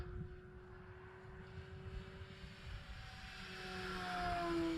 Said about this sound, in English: Let's do a full speed pass with the wind.